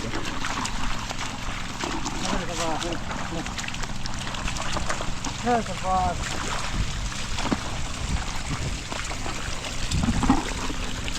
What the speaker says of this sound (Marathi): काही पाणी नव्हतं आत्ता बघ जोरदार पाणी